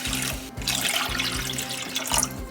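Two cups of water pour steadily into a pan for sugar syrup, a continuous close splashing rush that lasts the whole stretch, over a pulsing low hum.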